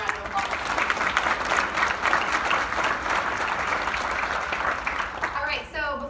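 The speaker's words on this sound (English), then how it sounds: "Let's give them another round of applause." A round of applause from an event audience at a Kansas City tour stop, dense and steady clapping throughout, with cheering voices and a speaking voice rising over it as the clapping eases near the end.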